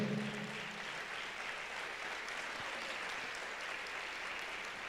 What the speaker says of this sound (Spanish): Dale un aplauso a mi Señor.